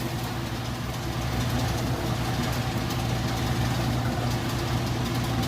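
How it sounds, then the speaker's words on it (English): A Whirlpool washing machine spins at top speed during its final rinse, a steady loud mechanical whir and hum with a constant drone that holds unbroken throughout, heard close with no talking. "we're back at about top speed. It's still doing a final rinse there."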